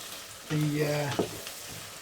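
Onion and rabbit meat frying in oil in a pan while being stirred: a soft continuous sizzle with a brief tonal hum in the middle and a sharp utensil knock near the end.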